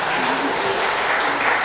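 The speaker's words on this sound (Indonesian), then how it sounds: "Tepuk tangan juga nih" An audience in a regency council chamber gives a short, dense burst of clapping during a regent's budget speech, steady and fairly close, with no voices over it.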